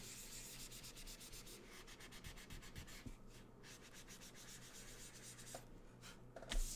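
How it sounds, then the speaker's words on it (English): A small sanding pad rubs back and forth over wood-burned artwork, making quiet, close, scratchy strokes in uneven bursts with short pauses between them. "So I might go back to my little sanding pad here."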